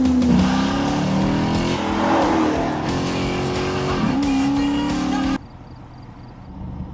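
A Dodge Charger's 470-horsepower Hemi V8 revs hard and climbs in pitch through several loud bursts, with a brief tire squeal, before cutting off abruptly into near quiet.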